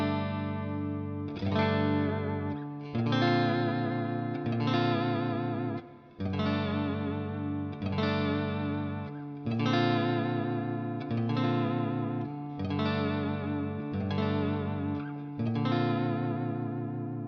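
Electric guitar played through an NAM A2 or Quad Cortex amp modeler, with distorted, chorus-washed tone: steady strummed chords that ring out in even, repeated phrases, loud and clean-recorded with no voices.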